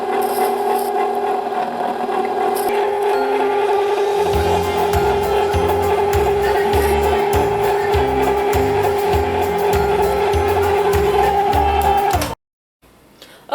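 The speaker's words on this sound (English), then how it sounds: "I'm going to let the machine run, and once it's finished churning" An ice cream machine churns a batch of rum and raisin ice cream: a steady motor hum joined by a rhythmic scraping rasp that repeats for several seconds before the machine cuts off abruptly.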